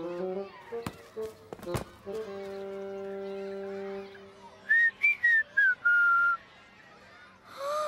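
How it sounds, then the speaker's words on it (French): Several whistled tones, first long steady notes, then a run of short, bright whistled bursts rising and falling, with faint background sounds. "Tu as appris à siffler."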